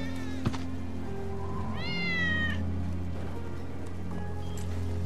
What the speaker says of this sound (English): That's Wedge's cat.